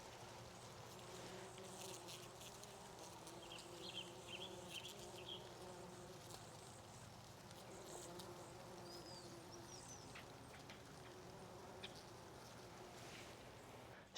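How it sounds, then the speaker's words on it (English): Bees buzz steadily around a blooming rhododendron in light rain, a continuous soft insect drone with occasional louder passes near the microphone and a faint wash of rain behind. "you have to hear the bees, this rhododendron"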